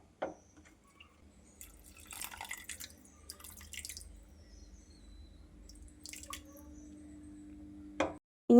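Soaked tamarind is squeezed by hand and its water poured into a Kerala prawn curry, giving scattered soft squishes and drips over several seconds against a low steady kitchen hum.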